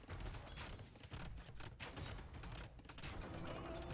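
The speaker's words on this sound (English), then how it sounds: "Bombard Cannon's still working away on this castle from Viper." Bombard cannons pound a castle in Age of Empires II, a dense, continuous barrage of booming shots and impacts layered over battle noise, loud and sustained throughout without clear gaps.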